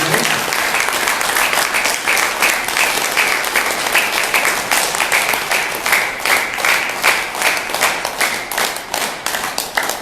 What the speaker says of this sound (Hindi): एक बार अपने लिए जोरदार तालियों से आप अपना अभिनंदन करें।